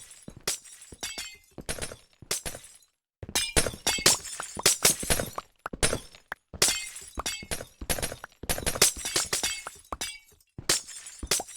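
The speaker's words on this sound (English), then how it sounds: "Everyone's favorite sound. The sound of glass breaking, even though it's ice." Ice blocks breaking in a video game with a glass-shatter effect, many crisp crashing bursts in quick succession with brief pauses between runs, loud and close.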